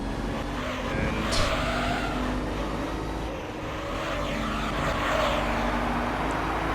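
Race car engines in Gran Turismo 3 during an American Championship race with a Corvette Z06 and a Gran Sport, a continuous loud roar with shifting revs and brief tire squeal, with no talk.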